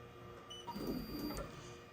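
An embroidery machine shifts its frame back to the first needle, a close mechanical whir and hum with faint motor whine, rising briefly in the middle and settling, with no talk.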